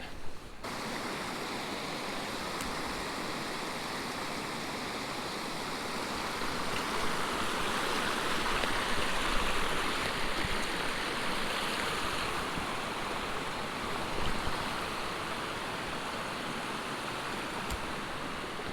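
Trout creek flowing steadily, a continuous close rushing and babbling of water with no voices.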